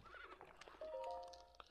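A wild horse in The Legend of Zelda: Breath of the Wild gives a quick whinny with hoof clip-clops around it, faint and brief, mixed with game ambience.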